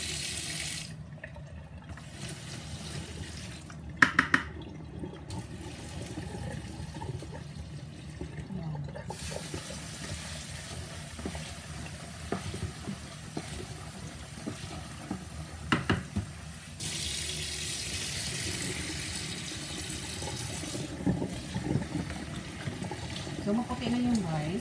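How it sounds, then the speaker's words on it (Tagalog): Running tap water pours over rice as it is rinsed a second time in a sink, a continuous close splashing and rushing with occasional clinks and short pauses in the flow. "Hugasan ko siya ulit."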